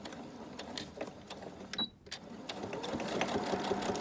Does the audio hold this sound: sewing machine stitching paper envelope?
yes